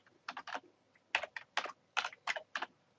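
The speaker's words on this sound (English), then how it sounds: "we can actually now type in here, for argument's sake" Rapid bursts of typing on a computer keyboard while editing text on screen: close, crisp keystroke clusters in several quick runs with short pauses between, and no voices.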